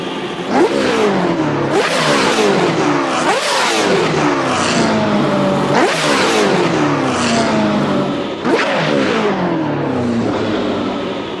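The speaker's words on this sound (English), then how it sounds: "That is the right sound for this little car." A small car's engine in a racing game revs repeatedly, loud and close, with sharp throttle blips rising and falling in regular surges roughly every two seconds, no voices over it.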